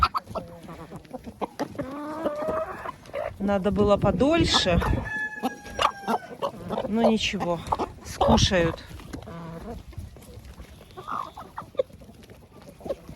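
Hens cluck and a rooster crows nearby as they eat bread soaked in cold water, heard beneath someone talking throughout.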